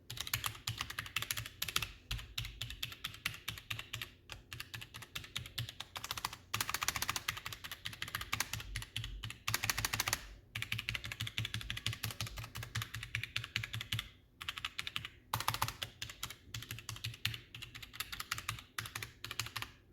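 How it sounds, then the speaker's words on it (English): Fast, heavy typing on a Roccat Vulcan 122 AIMO mechanical keyboard, with dense clacking keystrokes and occasional brief pauses, close and fairly quiet. "some people worry about the noise that is going to come from the keyboard"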